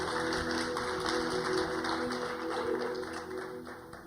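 Audience applause greeting a guest at a church talk on self-harm and suicide, a dense, steady wash of clapping from many hands that slowly fades toward the end.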